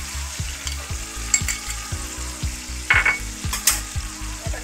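Onion paste and pointed gourd frying in a pan for a prawn dish, loud continuous sizzling with rhythmic scraping strokes of a spatula stirring the mixture, close and without talk.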